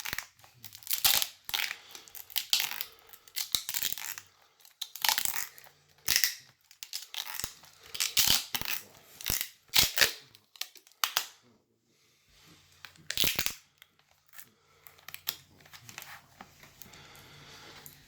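Crinkling, scrunching and tearing noises as foam is wrapped tightly around an Amtgard foam bat, coming in irregular close bursts with short quiet gaps, faint and without talk.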